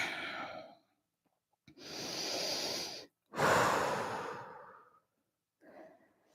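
Strong, forceful breaths in and out during a Kundalini yoga exercise, several long whooshing exhales and inhales separated by short pauses. The breaths are close and clear, with no talk over them.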